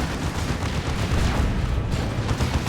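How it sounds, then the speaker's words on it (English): Plasma cannon fire in the Warhammer 40,000: Dawn of War 2 strategy game, a dense rumbling barrage of booms and blasts layered with battle noise, loud and continuous over a few seconds. "Plague Champion's had enough of this plasma cannon firing"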